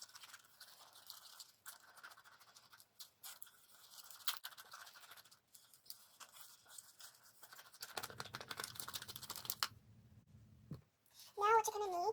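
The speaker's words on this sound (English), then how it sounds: "along with the fractionated coconut oil. Obviously, coconut oil is known to provide moisture, and yeah, mix it all together." Lip gloss ingredients stirred with fractionated coconut oil in a small container, producing quick, close scraping and clicking strokes in an irregular rhythm while someone talks over it, ending with a brief louder rattle.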